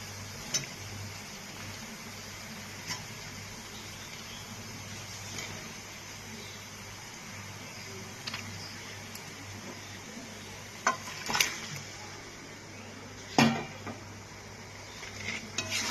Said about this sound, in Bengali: এবার ম্যারিনেট করা মাংসটা আমি এর মধ্যে দিয়ে দিচ্ছি।